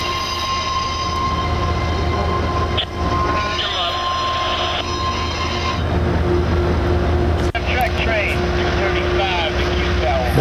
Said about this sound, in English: there were a few people that really wanted to just hear the sounds of the railroad